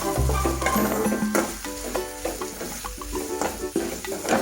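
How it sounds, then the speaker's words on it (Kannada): Chilli powder and garam masala fry in a pan for vegetable pasta, giving a close, crackling sizzle mixed with repeated scraping and clinking stir strokes throughout. "ಇದನ್ನು 1-2 ನಿಮಿಷಗಳ ಕಾಲ ಫ್ರೈ ಮಾಡ್ಕೋಬೇಕು"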